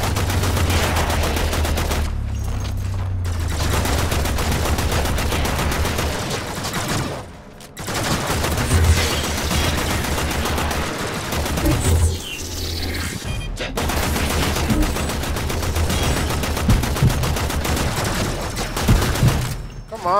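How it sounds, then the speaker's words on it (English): Sustained automatic gunfire in the shooter game Warframe, firing almost continuously for about twenty seconds with short breaks, loud and dense, while a voice cuts in briefly. "Stop shooting at me."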